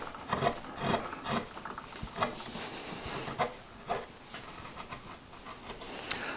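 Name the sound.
flat gouge carving wood letter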